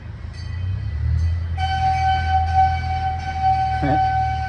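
A train passes close by, its low steady rumble joined by a sustained horn tone that holds for several seconds, with no talking over it.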